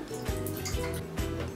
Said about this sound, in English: that is our 2 cups of milk. We're gonna go ahead and pour that in.